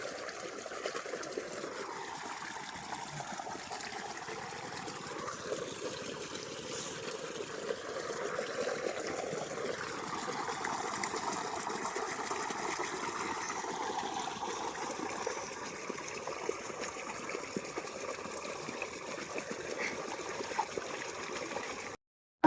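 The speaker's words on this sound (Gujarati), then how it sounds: "ને અમારા આ ભાઈ જો પાણી વાળે છે" Water runs through a farm irrigation channel, a faint, steady trickle and gentle gurgle heard from a short distance, continuous and unbroken throughout with no voices.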